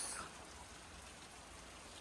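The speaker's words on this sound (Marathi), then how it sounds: "पुन्हा सुरू झालाय जोरदार असा पाऊस" Heavy rain pouring down in a steady, even hiss that stays faint and distant throughout, with no voices.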